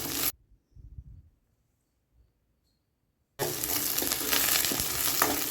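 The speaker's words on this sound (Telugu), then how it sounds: "ఇప్పుడు కొద్దిగా కరివేపాకు వేసి కలుపుకోవాలి" Curry leaves go into sizzling masala for an Andhra-style country chicken curry. A short burst of frying cuts to near silence, then a loud, steady sizzle with stirring scrapes returns.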